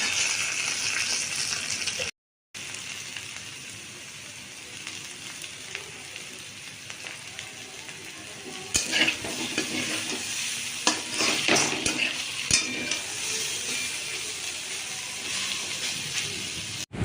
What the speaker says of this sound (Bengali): এবার ভালো করে এই যে কারি পাতাটা আমি একটু দিয়ে দিলাম, দিয়ে দেখো একটু নাড়াচাড়া করে